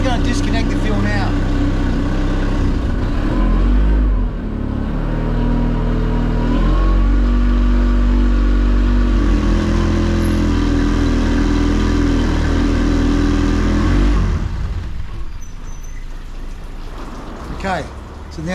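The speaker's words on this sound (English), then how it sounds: "now the motor's run out of fuel, the carby's out of fuel" A small outboard motor on a tinnie aluminium boat runs loudly, then sputters and fades near the end as it runs out of fuel, with someone speaking over it.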